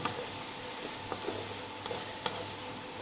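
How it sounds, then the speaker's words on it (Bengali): Kalonji seeds and green chillies sizzle steadily in a pan while being stirred, a low continuous fry broken by a few soft, sharp clicks of the spoon against the metal; no voices. "কালি জিরে আর কাঁচা লঙ্কাটা দিলাম দিয়ে আমি এবার এটাকে বেশ নাড়াচাড়া করবো"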